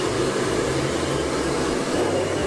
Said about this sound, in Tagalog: So ang gagawin niya ay blower siya.